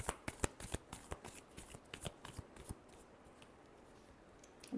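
Tarot cards being shuffled close by: a quick, steady patter of crisp riffling flicks that slows slightly, with no voice over it.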